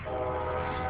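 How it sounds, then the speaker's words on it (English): A train passes at a distance outdoors, producing a continuous low rumbling roar with a steady tonal drone. The sound stays even and moderately loud throughout the short moment, with no talking. "Sorry for the train."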